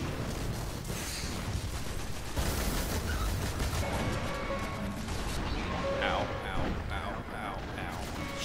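Dense, continuous gunfire in Destiny's Vault of Glass raid fills the whole stretch as a loud, busy barrage with crashing impacts, and voices talk underneath.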